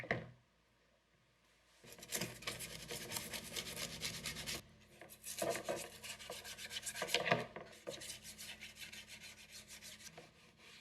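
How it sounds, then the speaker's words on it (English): A toothbrush scrubs parts of a ZX Spectrum computer keyboard during restoration, giving steady close bristly rubbing strokes in bursts with brief pauses, faint and without talk. "I'm going to go ahead and just scrub this now with a toothbrush"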